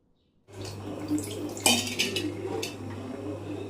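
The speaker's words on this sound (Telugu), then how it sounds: "దీంట్లో కొద్దిగా వాటర్" Water added to a pan of tamarind fish curry, heard after a silent start as a brief clatter of a utensil against the pan followed by gentle liquid splashing and stirring.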